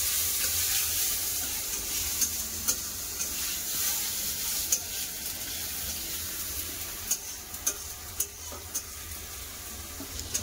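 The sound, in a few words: tomato frying in oil in a pan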